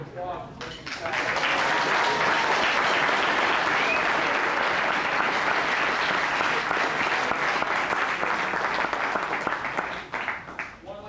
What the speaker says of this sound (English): Mr. Hurley, a round of applause for Mr. Sack.